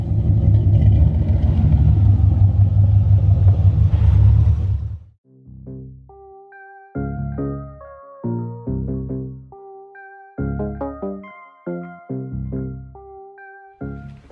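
A C4 car fitted with a new camber brace is driven on a test drive, giving about five seconds of loud, steady low road and engine rumble before it cuts to clean, tonal notes.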